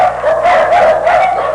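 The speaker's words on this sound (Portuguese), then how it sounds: "Tá cheio de cachorro aí" Dogs bark and yip in a steady, overlapping chorus at an overcrowded shelter house packed with abandoned dogs, the excited barking continuous and fairly close throughout.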